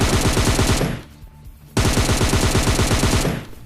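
Desert Eagle pistol gunfire in the mobile game PUBG Mobile Lite comes as two long, loud, rapid strings of shots, close and dense, split by a short lull of softer background noise.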